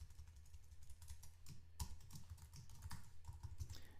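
Quick, uneven typing on a computer keyboard during C# programming, with close, fairly quiet key clicks in bursts and a few louder strikes.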